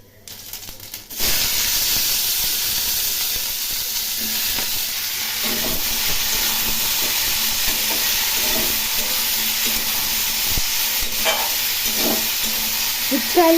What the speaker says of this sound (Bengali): উচ্ছে আলু একটু ভাজা ভাজা করে নেব।